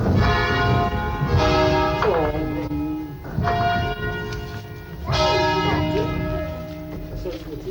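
The five bells of the parish church in Lallio, Bergamo, ringing together in overlapping, sustained strokes that swell and fade in waves, loud and resonant, while people talk faintly in the background.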